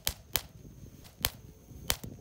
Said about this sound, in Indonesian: ini detik-detik habisnya mercon pretekan jumbo